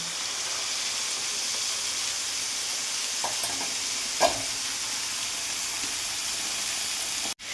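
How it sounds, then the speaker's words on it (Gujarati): Green garlic and onion fry in hot oil in a pan, producing a steady, even sizzle with a couple of light utensil knocks partway through and an abrupt thump near the end, close and alone without speech. "હવે લીલા લસણને એડ કરીશું ડુંગળી એડ કરીશું"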